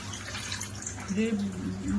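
Water runs and splashes while a spice wok is rinsed, with a voice talking over the wash.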